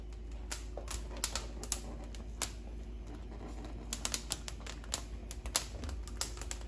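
Peppers crackling as they blacken over an open fire for rajas con crema: scattered sharp pops and snaps over a low steady rumble, close and moderately loud, with no talking.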